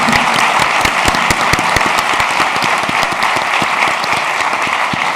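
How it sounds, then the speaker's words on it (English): Sustained audience applause with dense overlapping claps following a talk on women in artificial intelligence, steady and fairly loud throughout. "Valentine, please give a huge applause."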